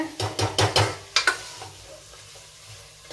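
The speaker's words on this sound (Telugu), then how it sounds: "నేను శుభ్రం చేసి పెట్టుకున్న పెతికిపప్పు అండి కడిగి పెట్టుకున్నాను వేసి వీటిని కూడా బాగా కలుపుకోవాలన్నమాట" Washed field beans (pethiki pappu) are stirred into a curry in a pan, giving a run of scraping spoon strokes with a light sizzle, several quick strokes early on, then fading to a quiet simmer.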